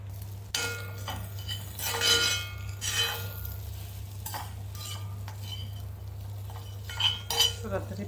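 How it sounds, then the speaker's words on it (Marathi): Mashed potato is sautéed with turmeric, garam masala and amchur powder for pav vada, with a spatula scraping and clinking against the pan in irregular strokes over a faint sizzle and low steady hum. "मी हळद, मसाला, आमचूर पावडर आणि थोडा गरम मसाला टाकून परतून झालेला आहे बटाटा परतून"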